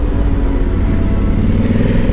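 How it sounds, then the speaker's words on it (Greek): A Honda Africa Twin 1100 DCT motorcycle, 2022 model, accelerating under throttle, its loud, close engine drone and rumble steady and continuous for the whole short stretch. "Εσύ απλώς ανοίγεις τον γκάζι και η μοτοσυκλέτα φεύγει."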